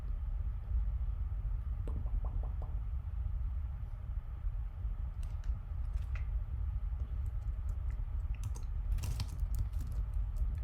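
Faint, scattered keystrokes on a computer keyboard, a few light clicks and short bursts over a steady low hum of room or machine noise.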